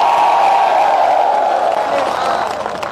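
Large audience clapping and cheering at a political rally for Bhagwant Mann, a loud, dense, continuous wash of applause and crowd noise with no gaps throughout.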